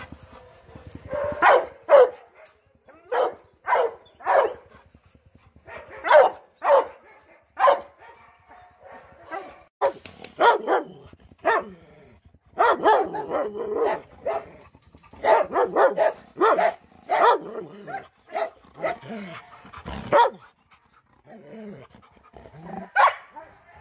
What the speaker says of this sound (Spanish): hemos escuchado el sonido del perro